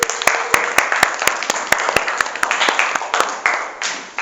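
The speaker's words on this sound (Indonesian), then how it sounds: "Tepuk tangan untuk kita semua." A classroom group claps together after a call for applause at a school project session, with sharp hand claps over a lively, noisy room for several seconds.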